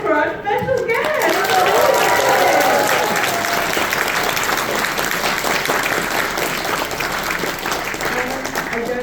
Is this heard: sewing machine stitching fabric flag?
no